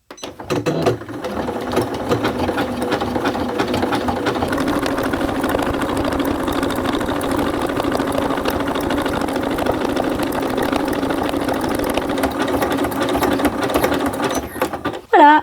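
Domestic sewing machine running a zigzag stitch, width 3.0 and length 0.30, to appliqué a snout onto a child's teddy bear soft toy. A continuous close whirring and rapid needle clatter runs for about fourteen seconds without pause.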